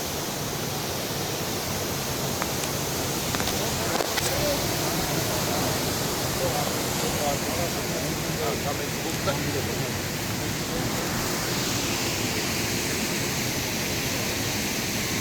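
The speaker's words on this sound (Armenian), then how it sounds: "Գետը շատ վարար է ու դժվար է աշխատանքները։" A swollen, fast-flowing river in flood roars as a loud, steady, broadband rush that fills the whole scene, with a voice faintly audible underneath.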